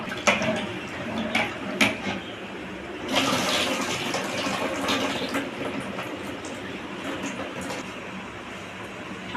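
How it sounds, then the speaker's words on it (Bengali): Soaked peas being washed in water in a home kitchen, a soft continuous splashing and sloshing rush with a few faint clicks, quiet and close, without talk. "মটরগুলো রাত্রে ভিজিয়ে রেখেছিল, সুন্দর করে ভিজে গেছে। আমি ধুয়ে নিই"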